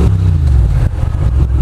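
A motorbike engine runs loud and close, with a steady rumble that dips briefly midway before rising again.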